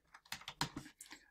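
Quick irregular clicks of a computer keyboard being typed on, close and fairly quiet, a short burst of keystrokes with no one speaking.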